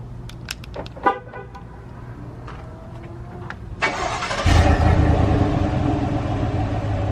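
A 2019 Chevrolet Silverado's 5.3-liter V8 cranks and fires up after a few light clicks. It then settles into a steady, fairly loud rumbling idle.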